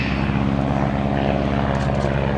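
A stunt plane at the 2011 Blue Angels Homecoming Airshow dives low past the tower and trees, its propeller engine droning steadily and loudly throughout with a strong low hum and no speech.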